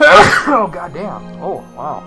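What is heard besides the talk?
sneeze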